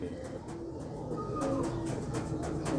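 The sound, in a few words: pigeon cooing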